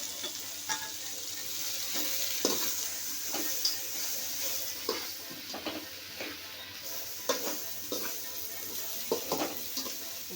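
Raw banana slices fry with turmeric and sambar powder in a pan, a continuous sizzle broken by repeated scraping and clinking strokes of a spoon as the mixture is stirred, close and clear with no talk.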